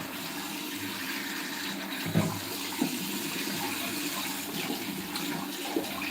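A tap runs steadily into a basin while the water is being changed, a continuous close splashing stream with a few small knocks and clatters over it, and no voices.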